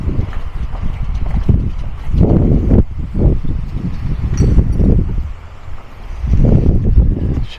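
Strong gusts of wind batter the microphone at a beach in Armação de Pêra on Portugal's Algarve coast, loud rushing bursts that rise and fall in waves.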